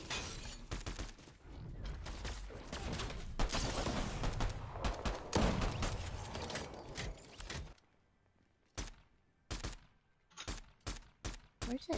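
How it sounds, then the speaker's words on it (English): Gunfire in the video game Fortnite: a long, dense barrage of loud rapid shots, then a quieter gap broken by several separate short bursts and single shots. "Where's that shooting coming from?"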